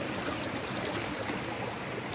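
Steady rushing creek water flows continuously nearby, a broad even burble with no pauses or voices.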